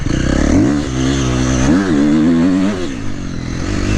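A KTM 350 XC-F dirt bike revs at full throttle on loose pea gravel, its engine rising and falling through several sharp, loud surges with clattering from the ride.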